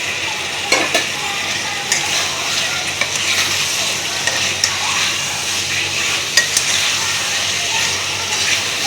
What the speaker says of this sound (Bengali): মশলার মধ্যে এটাকে নেড়ে দিতে হবে, ভালো করে নেড়ে।